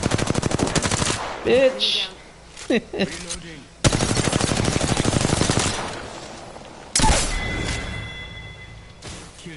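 Rapid automatic gunfire from an Apex Legends match, loud and close, in repeated sustained bursts with brief gaps, with a player's voice shouting over it.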